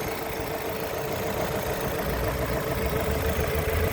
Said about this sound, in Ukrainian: Мотор працює рівнесенько, чистесенько, запотівань немає.